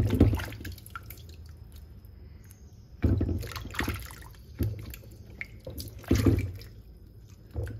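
Cut mango pieces for pickle being washed in water, heard as dripping and trickling punctuated by several sharper splashes at irregular intervals, close and fairly quiet.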